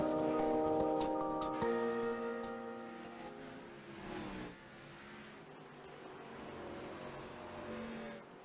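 Race cars from iRacing's Grand National series lap the short oval at South Boston Speedway, engines droning loudly at first, then easing off to a steadier, quieter whine that keeps changing pitch as the cars run.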